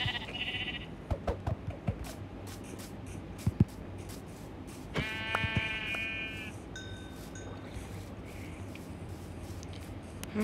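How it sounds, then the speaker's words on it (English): Video game sheep bleat in short harmonic cries over quiet in-game ambience, with a few clicks and footsteps around them and no talking. "I just know there's sheep down there."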